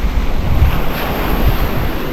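Sea waves wash steadily onto a shore beside a fishing net, with loud gusting wind buffeting the microphone throughout and no voices.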